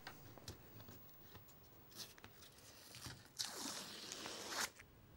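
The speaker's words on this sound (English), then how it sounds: "And now we're going to take the tape off." Masking tape peeled off a finished watercolour painting of a blossom tree, heard as one sustained, close ripping strip lasting about a second, preceded by a few light rustles and taps in an otherwise quiet room.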